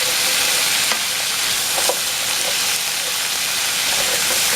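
Celery and black pepper chicken sizzles and hisses steadily in a hot pan, a loud, dense frying wash with occasional faint clicks of stirring and no voices.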